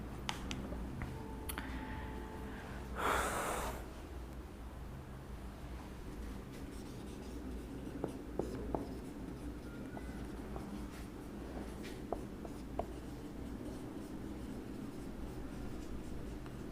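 Chalk or pen writes by hand during a soil mechanics lecture, making faint, scattered scratches and taps over a low room hum, with one brief louder rustle near the start.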